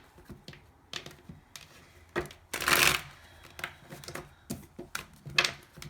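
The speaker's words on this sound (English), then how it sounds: "One more shuffle for the Hangman." Tarot cards are shuffled up close in short crisp riffles, with one longer, louder riffle in the middle and soft taps between.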